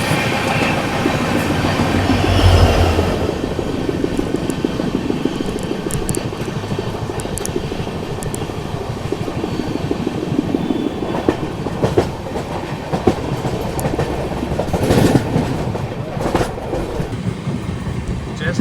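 Maharashtra Sampark Kranti Express running on rails near Surat, a loud steady rumble with clickety-clack wheel beats and rattling carriage noise throughout, no voices.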